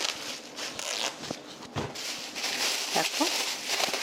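Crinkling and rustling of a large plastic bag being handled in a kitchen while preparing eggplant, irregular crackles and swishes heard close up.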